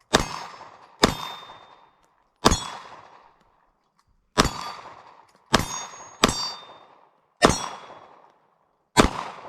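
Rounds from a Glock 19 Gen5 pistol with a Holosun sight strike steel targets at a shooting range, giving eight sharp metallic clangs at irregular intervals, each ringing briefly before decaying into silence.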